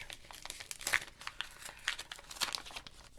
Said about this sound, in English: So we're going to open the card first.